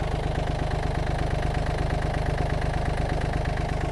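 A Yanmar FX-255 mini tractor's small diesel engine chugs steadily up close, its rapid even knocking pulse holding at a constant pace with no clear rise or fall.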